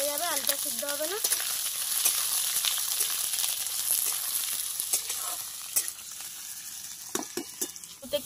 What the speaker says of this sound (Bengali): আলুটা দিয়ে দেব। আলুটা একটু লাল লাল করে নেব।